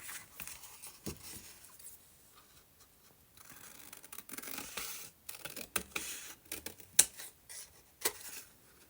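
Scissors snip paper for a handmade journal pocket, irregular close crisp cuts and rustling spread across the stretch, with one sharper click near the end.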